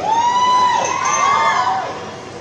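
A mall crowd at a children's stage event claps and cheers loudly and continuously, with whoops and children's shouts that swell and then ease off toward the end.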